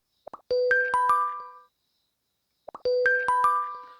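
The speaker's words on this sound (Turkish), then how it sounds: "Bu şekilde bütün bildirim sesleri arasında geçiş yapabiliriz." A chiming notification tone plays twice, each a quick rising sequence of bright bell-like notes that ring out and fade, separated by a short silence.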